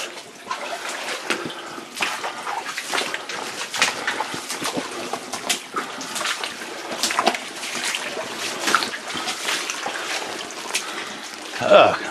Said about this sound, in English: The water's coming from somewhere.